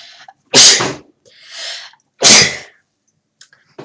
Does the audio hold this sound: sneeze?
yes